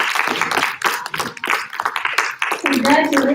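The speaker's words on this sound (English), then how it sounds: "Let's give them a round of applause." Audience applause for kindergarten nominees at a school awards ceremony, a steady patter of many hands clapping with voices talking over it and a louder voice near the end.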